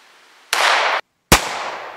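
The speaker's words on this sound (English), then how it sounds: "First gun, 22 long rifle, some old high velocity ammo." A .22 Long Rifle Cougar Mark III firing old high-velocity ammunition into a thick roll of plastic, with two loud, sharp cracks about a second apart, each with a short noisy tail.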